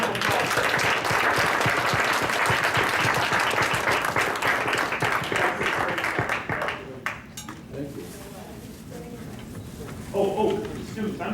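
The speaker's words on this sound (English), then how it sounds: "How about a round of applause?" An audience at a school board of education meeting applauds students with dense, sustained clapping that thins out toward the end as voices begin to talk.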